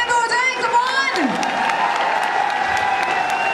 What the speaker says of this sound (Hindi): टॉप लीडर के लिए टॉप वाली तालियां तो हो जाए